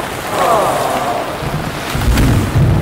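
Thunderstorm with lightning over a cattle area, rain hissing steadily and low thunder rumbling in from mid-distance, swelling toward the end.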